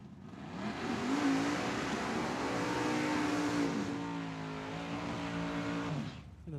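Gambler-class drag racing cars launch at Tucson Dragway, their engines roaring loudly and close as they rev hard and accelerate down the strip for several seconds before fading and cutting off.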